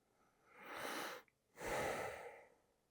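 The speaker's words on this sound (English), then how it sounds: "Keep breathing it in." Two deep, slow breaths during a guided meditation, each a long airy rush with a short pause between, close and quiet, with no talking.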